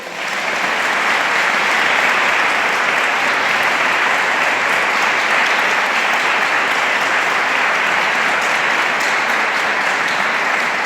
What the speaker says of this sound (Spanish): Permitidme un aplauso para los sacerdotes